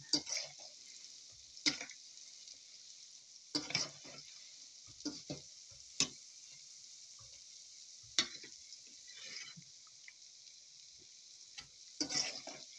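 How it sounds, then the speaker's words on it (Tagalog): Namak phare dough, a second batch, frying in hot oil toward golden brown, giving a steady faint sizzle broken by scattered sharp crackles and pops. "Fry natin hanggang maging golden brown."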